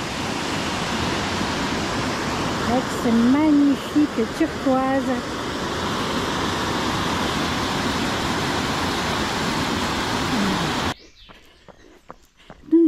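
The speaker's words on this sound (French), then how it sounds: "ces eaux qui dévalent" Water of the Cuisance river tumbling down in cascades through forest near Arbois, a loud, steady rushing roar that fills most of the clip, with a voice speaking over it before it cuts to quieter sound.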